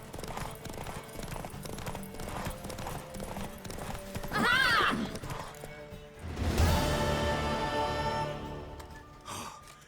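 A horse in The Witcher 3 clip-clops steadily under a dense game music and effects bed, with a brief whinny-like burst midway and a louder swell near the end.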